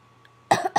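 A person coughs twice in quick succession, loud and close, after a brief near-silent pause.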